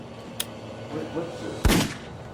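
Gunshot sound effect in a true-crime retelling of a shooting with a .22 caliber rifle: one sharp, loud crack near the end, after a faint earlier click, over a low background bed.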